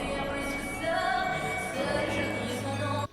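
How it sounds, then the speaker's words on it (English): Music fades in under a CapCut volume keyframe curve, a dense, full mix that stays fairly quiet and steady over a few seconds before cutting off abruptly. "And the music fades in slowly."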